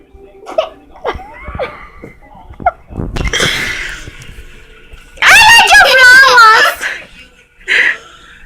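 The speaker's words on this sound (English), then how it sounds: "Stop hiccuping." A person hiccups in a few short, sharp bursts near the start, followed by louder voiced vocal sounds and another voice talking nearby.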